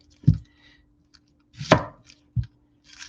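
A knife chops through half an onion on a cutting board, three distinct thuds spaced irregularly over a few seconds, close and fairly loud against a quiet background with no talking.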